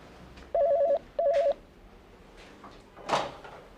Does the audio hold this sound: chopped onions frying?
no